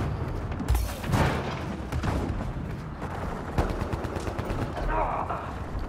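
A turret fires in the video game Mass Effect Andromeda, with rapid, loud bursts of gunfire and booming impacts amid battle noise. A voice speaks briefly.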